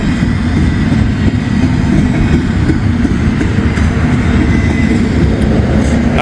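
A short freight train of containers rolls slowly through a curve, a loud, close, continuous rumble with rhythmic clacking of wheels over rail joints throughout.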